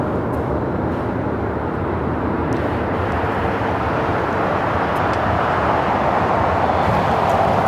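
An Air China Boeing 777-300ER on short final for runway 24 right gives off a steady, broad jet roar that holds constant and swells slightly louder toward the end, with no voices over it.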